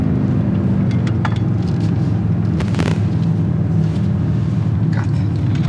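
A BMW X6 M Competition accelerates hard in second gear in manual mode, its engine a deep, steady, loud rumble from inside the cabin, with a few faint clicks over it.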